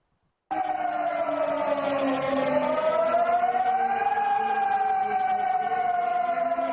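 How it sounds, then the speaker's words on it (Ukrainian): A loud air raid siren wails steadily in northern Kosovo, its pitch slowly dipping and rising again as it sounds continuously without pause. "У північній частині Косова спрацювала сирена."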